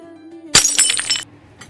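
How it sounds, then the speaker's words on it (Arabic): Plates and glasses smash in a kitchen, a loud crash followed by a burst of shattering and clattering shards lasting under a second, then a faint later clink. "صحن واحد مكسر، كسر 10 صحون، كسر كاسات، كسر المطبخ كله"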